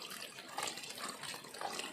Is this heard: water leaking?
yes